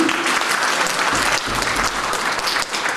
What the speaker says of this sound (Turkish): arkadaşımıza da bir alkış.